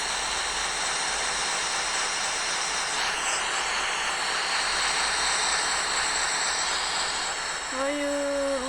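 A propeller airplane from a Minecraft vehicle add-on climbs into the air in a video game, giving a steady, loud droning engine hiss that runs unbroken, with a rising whistle-like tone near the end.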